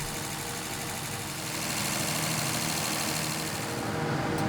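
A car engine with a flat tappet cam and a hand-ported cast Clifford intake manifold runs on a dyno, a loud, rough, steady roar with no talking.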